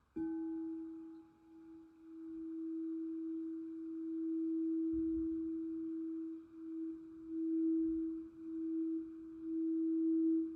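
A steady pure sine tone holds at one pitch for about ten seconds, clean and continuous, with slight swells in loudness and no other sound.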